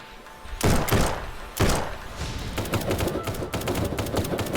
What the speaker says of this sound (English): Why is there a shootout?